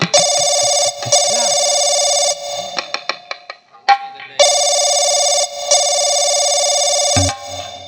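Loud electronic ringback tones from a mobile phone call in a Hindi nautanki stage comedy, with long buzzing ring bursts separated by brief gaps and a short run of dialing beeps in the middle.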